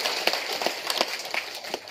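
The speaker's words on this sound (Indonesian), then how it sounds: "Kita tepuk tangan untuk orang Jawa." Audience applause at a community gathering honouring a Javanese-descended person, a dense patter of scattered claps with sharp individual hits, moderately distant and steady for two seconds, no talk over it.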